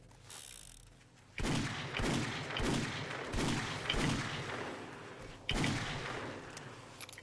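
Gunfire rings out in the zombie video game 7 Days to Die: six or seven sharp, loud shots spaced about a second apart, each followed by a short decaying tail, with no talking.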